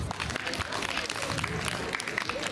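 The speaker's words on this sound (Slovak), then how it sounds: "Veľký potlesk!" An audience applauds warmly to welcome guests onstage at a Slovak event, a dense, continuous patter of many hands clapping with a voice faintly mixed in.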